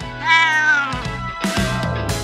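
A cat meows loudly and close, one long drawn-out cry followed by a shorter second call, with no talk.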